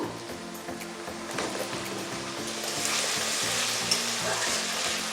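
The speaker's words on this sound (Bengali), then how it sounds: "দেব পেঁয়াজ কুচি বেশি লাল করে ভাজবো না তারপরে দেব আলু" Chopped onion and potato sizzle steadily as they fry in hot oil in a pan, a continuous close hiss with stirring clatter that grows louder partway through; no one speaks.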